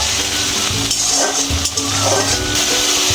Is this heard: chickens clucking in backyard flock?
no